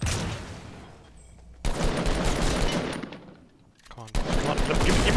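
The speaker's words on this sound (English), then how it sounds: "Oh, that's a nade launcher!" Loud blasts of weapon fire in the video game Fortnite come in two long dense bursts, broken by brief near-silent gaps.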